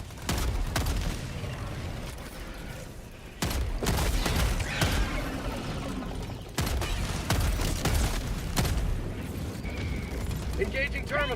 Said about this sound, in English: plasma grenade launcher.